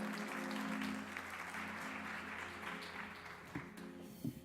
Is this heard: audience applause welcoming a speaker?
yes